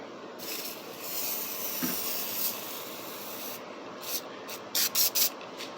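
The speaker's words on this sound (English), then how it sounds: "Spray that on there and let it eat for a second or two." Spray-away cleaner sprayed onto guitar frets and fretboard up close, a soft continuous hiss of mist, then a few short sharp spritzes in quick succession near the end.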